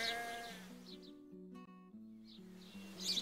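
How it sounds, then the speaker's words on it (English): A baby sheep bleats in a children's English farm-animal lesson, a short wavering cry heard over a soft, steady musical background, with no talking. "It's a baby sheep."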